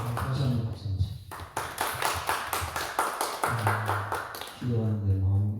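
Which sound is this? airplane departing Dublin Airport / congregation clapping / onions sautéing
congregation clapping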